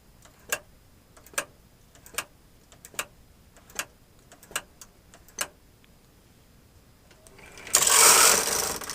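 A knitting machine carriage is pushed across a 1x1 weaving pattern, first giving a series of evenly spaced sharp clicks and then a loud, close mechanical rasp as it sweeps the row.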